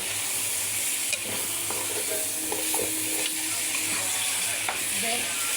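Chicken pieces sizzle steadily in a hot pan while they are turned. There is a continuous, bright frying hiss, and a few soft scrapes and clacks from the flipping stand out faintly.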